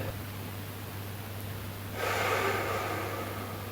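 A long, deep inhale through the nose during a side-tilting yoga stretch, a breathy rush that swells after a quiet stretch and holds steady, close to the listener, with a low hum beneath.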